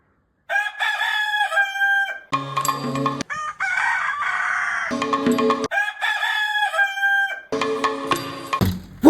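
Rooster crowing loudly and close, several long cock-a-doodle-doo calls one after another with brief gaps, some overlapping clucks from other fowl, no talking.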